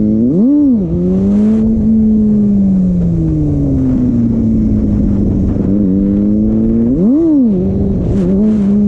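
Kawasaki ZX6R motorcycle pulling away in first gear, loud and near, the engine note rising sharply, easing into a long falling drone, then surging upward again near the end, with no talking.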